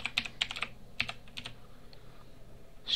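Quick bursts of keystrokes on a computer keyboard while writing C# code, close and clear, clustered in the first second and a half, then a pause and one last tap at the end.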